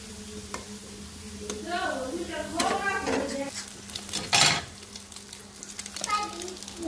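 Onion frying in oil in a pan, a soft sizzle under a woman's speech and clinking of a utensil against the pan, with one louder scrape midway.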